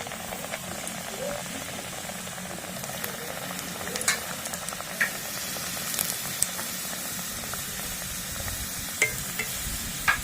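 Samosas frying in hot oil, a quiet continuous sizzle and bubbling with occasional sharp pops and clinks, steady and close, with no talking.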